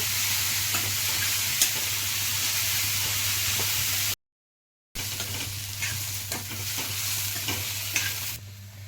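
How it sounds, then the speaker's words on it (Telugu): Grated beetroot frying in a pan, a constant loud sizzle and hiss with occasional stirring scrapes, briefly cut off by a short silence before the sizzling resumes. "దీంట్లో ఉన్న నీరు శాతం పోయే వరకు మనం ఫ్రై చేసుకుందాం"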